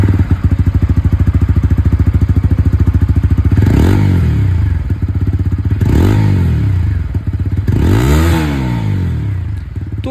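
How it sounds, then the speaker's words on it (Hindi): TVS Apache RTR 160 4V motorcycle with an underbelly exhaust, idling with a steady close thump and blipped three times into sharp revs that rise and fall. "एक बार यहाँ पर बुलपअप एग्जॉस्ट में जो साउंड आता है वो भी आप लोग यहाँ पर सुन लीजिए 164V की।"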